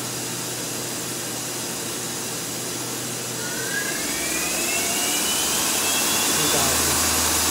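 Doosan V-450TM vertical turning center with live tooling, its spindle running up through the RPM range as a dense, loud machine whir with a rising whine that climbs in pitch partway through.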